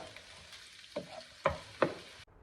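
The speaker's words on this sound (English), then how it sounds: "Now I'm going to let the onion just saute, not brown" Onion sautéing in a pan for Portuguese chicken gizzards, a steady soft sizzle broken by three louder stirring bursts, close by, then a sudden drop to quiet.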